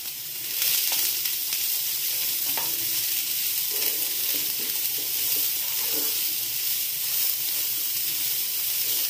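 Onion, carrot, cabbage and green chilli fry in a pan for a wheat dosa filling, a constant hissing sizzle with faint stirring scrapes underneath, steady and close throughout.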